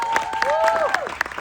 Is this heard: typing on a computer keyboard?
no